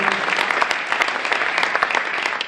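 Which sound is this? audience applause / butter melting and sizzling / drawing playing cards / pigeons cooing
audience applause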